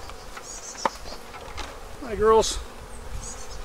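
Honey bees buzz at an opened hive, a close, dense hum with individual bees droning loudly past, while someone briefly speaks to them over the swarm.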